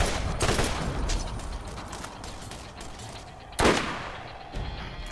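Rapid turret gunfire in the video game Borderlands, a dense stream of shots over steady game noise, with one louder burst partway through.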